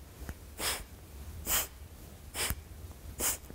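Four strong nasal exhalations during a pranayama breathing exercise, spaced roughly every second, each a short broadband whoosh standing alone with soft low rumble between, close and clear.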